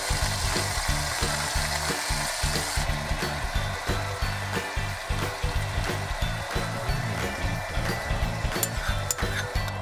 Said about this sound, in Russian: Открываем нашу посудину и в содержимое вливаем томатный соус